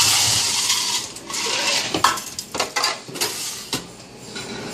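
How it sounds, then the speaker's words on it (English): Ice scooped and rattling into a tall coffee-shop drink cup, a busy run of clinks and clatters over roughly five seconds, loud and close with no talking. "Now, we're going to use the appropriate ice scoop."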